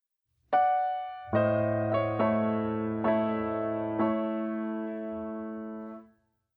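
Piano plays a slow, sustained passage from a Chopin prelude, chords and intervals of thirds and sixths, a handful of notes struck in turn and left ringing out alone before fading.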